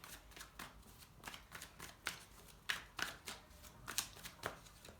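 Tarot cards being shuffled by hand, a steady run of crisp riffling and slapping bursts close up, with no voices over it.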